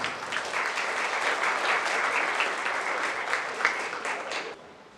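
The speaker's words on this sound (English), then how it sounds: "Let's give her a big round of applause." A crowd at a 4-H goat show during a county fair gives a full, steady round of applause for several seconds, which fades out quickly at the end.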